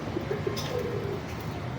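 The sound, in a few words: pigeons cooing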